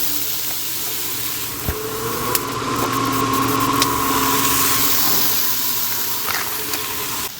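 Vegetables sizzling on a Char-Broil flat top grill, a steady close hiss of frying with occasional sharp pops and crackles and a faint low hum underneath, with no talking.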